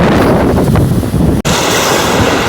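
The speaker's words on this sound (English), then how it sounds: "the waves are really crashing in at the moment" Rough surf crashing on the shore at Sheerness, a dense, loud wash of churning water mixed with strong wind buffeting the microphone, continuous throughout with a brief dropout midway.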